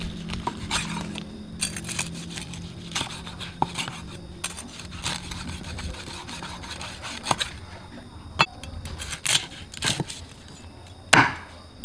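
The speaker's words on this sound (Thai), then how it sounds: "มา หั่นกันก่อนเลยดีกว่า" A knife chops through crispy fried pork on a board in a kitchen, giving irregular sharp crunchy cracks and knocks, some louder near the end, over a low background hum.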